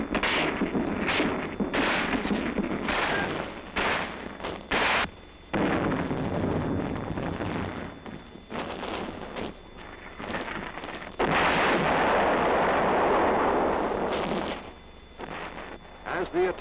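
Soldiers defending a position fire weapons at a maximum rate, sharp bursts of gunfire cracking repeatedly over wind noise, with heavier rolling reports later.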